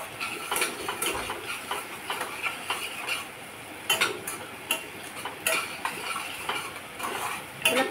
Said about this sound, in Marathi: ही पेस्ट पण छान परतून घ्यायची.